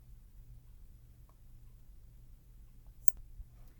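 A computer mouse gives one sharp, faint click close up against a quiet room hush, with a softer tick just before it.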